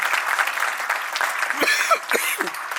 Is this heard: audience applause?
yes